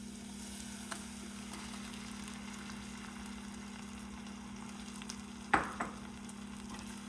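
Grated fresh corn frying in a pan for makai no chevdo, a quiet steady sizzle with soft stirring scrapes and a couple of sharper clinks of a spoon against the pan near the end.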